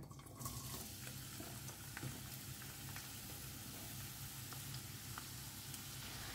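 Two chopped medium onions frying in hot oil in a kadai for a Goan vegetable caldine, giving a steady, even sizzle with soft stirring scrapes throughout, no talking.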